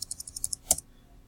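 Quick burst of keystrokes on a computer keyboard, about eight light clicks in an even rhythm followed by a sharper key press, close and quiet with no talking.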